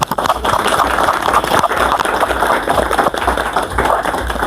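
Sustained audience applause at a panel talk about women who sail, a dense, steady wash of many hands clapping from start to finish with no pause.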